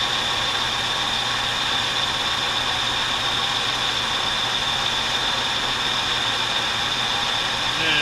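A lathe turns metal with a TNMG insert at a 10,000 speed rate, breaking chips as it cuts. A steady, close machine hum with a constant whine runs unbroken throughout.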